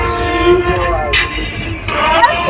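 A train at Siliguri station rumbles and clatters nearby with a steady mechanical drone and tonal whining. Brief horn-like blasts and hissing bursts sound through it, and voices are faintly present.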